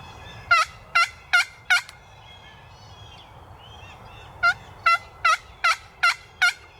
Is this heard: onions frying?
no